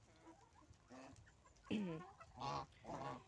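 Several loud honking and squawking calls from geese and ducks in a village yard, close by, coming in quick irregular bursts with brief gaps between.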